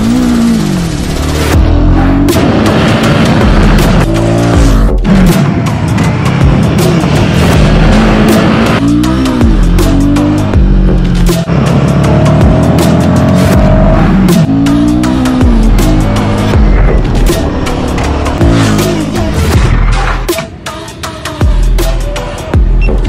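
Motorbike ridden at speed with a GoPro HERO13 Black on its tail, engine loud and close, revving up and down through repeated gear changes with wind buffeting, no voices.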